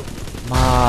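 A single burst of gunfire as the player shoots in Bioshock 2, a sudden loud blast erupting after a brief quieter lead-in and ringing out to the end.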